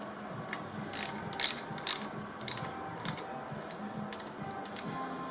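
A ratchet tightens the aluminum front cover bolts on an L-series engine during a head gasket replacement, giving repeated short bursts of fast metallic clicking over a low background hum, close and fairly quiet, with no talking.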